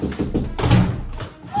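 Knocking on a door: a few dull thumps in the middle of the clip, set among other low, muffled sounds.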